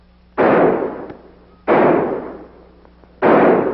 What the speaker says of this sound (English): Tell them to keep shooting, Abner.